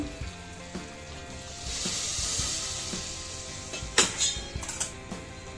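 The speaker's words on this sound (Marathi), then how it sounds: "थोडंसं मी गरम पाणी टाकते" A soft hissing rush as hot water hits a hot pressure cooker of dal khichdi, building into steady steaming sizzle, followed by a few sharp clatters.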